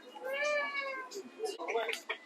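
A cat meows in a long, clear, drawn-out call followed by shorter mewing sounds, close to the microphone, with a voice speaking softly around it.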